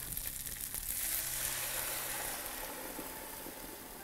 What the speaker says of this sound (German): Und dann lösche ich mit dem Haferdrink ab.